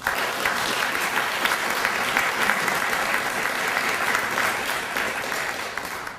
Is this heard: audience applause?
yes